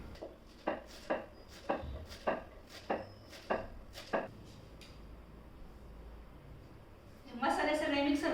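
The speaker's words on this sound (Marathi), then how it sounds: "कोथिंबीर बारीक चिरून घ्यायची." Fresh coriander is chopped finely with a knife on a board, giving about eight evenly spaced, crisp strikes close up, then a brief louder rustle of scraping at the end.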